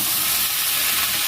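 Chicken pieces are stirred as they fry in a pan, giving a loud, dense, unbroken sizzle close by with faint scraping under the hiss.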